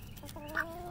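A hen clucks briefly and softly, a short fowl vocalization with a faint rising note near the end, heard up close indoors.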